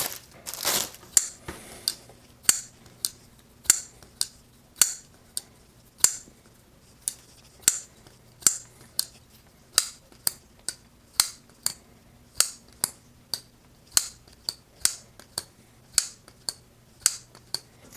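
A CJRB Pyrite folding knife with a Wharncliffe blade makes repeated crisp cutting snips, about two per second in a steady rhythm, sharp and close against a quiet background with no talking.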